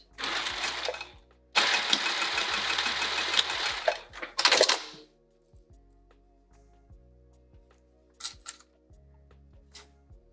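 A sewing machine stitches fabric for a sling in two loud, steady bursts of needle hammering, separated by a brief pause, then stops and leaves near silence with a few small clicks.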